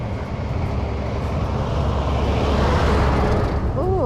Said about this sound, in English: this is a very big truck